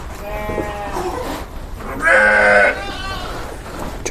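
Sheep on a farm bleating, with one loud, close bleat held for about half a second amid a background of other farm noise.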